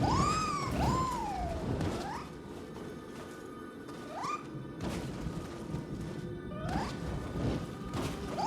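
Yowling cries from a cat enemy in the video game Nioh 3, several rising and falling calls spread over a steady game-ambience bed, with no one speaking.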